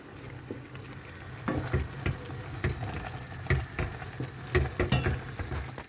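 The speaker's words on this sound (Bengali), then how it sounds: "ছোটো জনের জন্য আমার আলাদা একটু নুডলস রান্না করলাম" Maggi noodles cook in a pan at home, a soft steady sizzle broken by repeated scraping and tapping stirs at an uneven pace, close and fairly quiet, with no talking.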